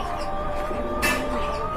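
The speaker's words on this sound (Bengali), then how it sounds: "এক জোড়া খাকি কবুতর দেখতে পাচ্ছেন মাশাআল্লাহ" A pair of khaki pigeons coo softly nearby at a pigeon sale, with low repeated hums over a faint background murmur and one brief sharp noise midway.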